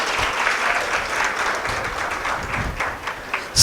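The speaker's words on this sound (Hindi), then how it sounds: "ताली तो लगा दो।" Audience applause at a spiritual discourse in Ramnagar, a steady dense clapping from a sizable crowd heard nearby for several seconds, swelling briefly at the end.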